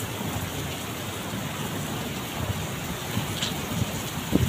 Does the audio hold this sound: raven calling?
no